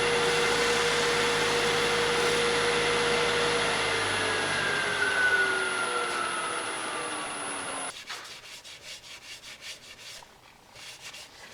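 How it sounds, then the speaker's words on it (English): A dust collector runs during sanding of a deer antler bowl with a loud, steady whine and whoosh, its pitch slowly dropping as it winds down and cuts off. "Flip on my dust collector here."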